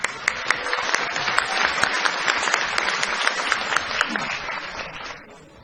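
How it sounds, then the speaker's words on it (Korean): A hall audience at a political party convention gives steady, moderately distant applause, with a few sharper claps standing out before it fades away. "힘찬 박수로 맞이해 주시기 바랍니다."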